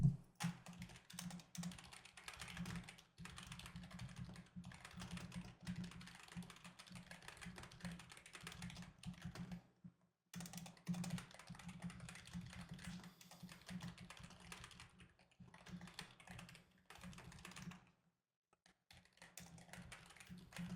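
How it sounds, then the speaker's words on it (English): Steady, rapid typing on a computer keyboard runs throughout with a low hum beneath, broken by brief pauses near 10 and 17–18 seconds, sounding slightly distant with no talk. "so you guys don't hear the tippy tapping my keyboard"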